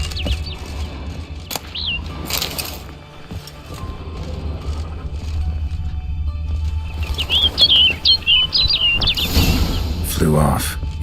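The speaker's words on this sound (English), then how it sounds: "Looks like the bird's leading me somewhere." Birdsong from The Witcher 3: Blood and Wine, a few bright chirps and a quick trill rising over a low ambient hum, with wingbeat-like rustles around them.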